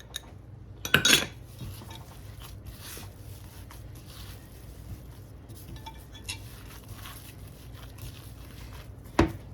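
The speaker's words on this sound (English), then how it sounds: "Mix that in really well." A spoon working onion, salt and pepper into a hamburger pie filling in a bowl, soft scraping and occasional clinks of utensil on dish, with a couple of sharper knocks, close and fairly quiet.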